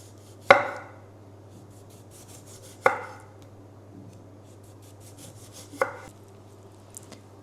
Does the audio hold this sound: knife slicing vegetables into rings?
yes